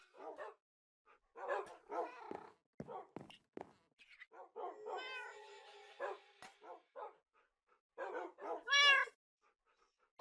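A Minecraft cat meows in short, rising calls, mixed with dog-like barks and other bursts of game sound, fairly close and clear with no talking.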